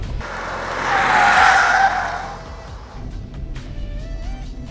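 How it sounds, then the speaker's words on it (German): A Ford Mustang Mach-E electric car surges forward under hard acceleration with a loud whooshing tire and road roar that swells then eases, with little engine noise, followed by a faint whine. "Wir treten jetzt aufs Gas."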